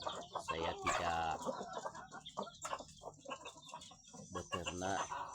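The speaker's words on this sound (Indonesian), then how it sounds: "saya ini beternak ayam kampung dilepas liarkan teman-teman" Free-range village chickens cluck and call continuously at close range, with overlapping hens and a rooster crowing briefly in a busy farmyard.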